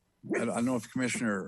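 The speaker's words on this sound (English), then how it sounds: "that's my dog" A dog barks twice nearby, loud and close, during a historic landmarks commission meeting held online, with its barks overlapping a person talking.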